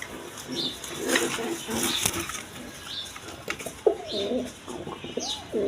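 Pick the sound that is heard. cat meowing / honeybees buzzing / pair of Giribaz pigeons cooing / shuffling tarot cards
pair of Giribaz pigeons cooing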